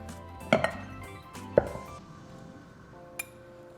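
A spoon stirring sugar and ground nutmeg in a bowl for an apple crisp gives a few sharp clinks against the bowl, spaced apart, with quiet pauses between.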